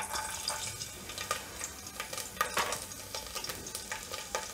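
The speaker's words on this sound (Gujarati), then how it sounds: "તેલ આપણું ગરમ થઈ ગયું છે હવે આપણે એમાં પહેલાં લસણ નાખીશું" Garlic frying in hot oil in a pan for guvar bateta shaak, a steady close sizzle broken by short scraping stirs, moderately loud with no talking.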